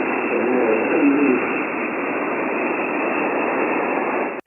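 Amateur radio signal on the 17-meter HF band sinking into the receiver's noise floor; a faint voice-like trace fades early, leaving steady, loud band-limited hiss that runs unbroken until an abrupt cutoff.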